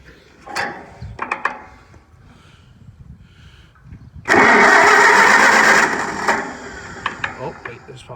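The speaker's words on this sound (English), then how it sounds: "All right, let's fire it up, see what it does." A Farmall M tractor engine cranks over in one loud, rough burst of about a second and a half, close by, after a stretch of quiet voices, then settles back to low rumbling.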